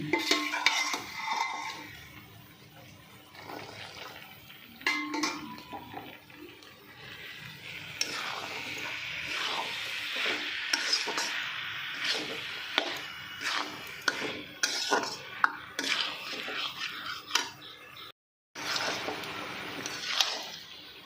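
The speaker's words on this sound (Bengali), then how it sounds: "ভালো করে কিন্তু নাড়া হয়ে গেছে" Ghugni being stirred in a pot, with boiled peas and potatoes in a well-fried spice masala: close, irregular scraping and clattering of a spoon against the pot, repeated over about twenty seconds, with brief pauses.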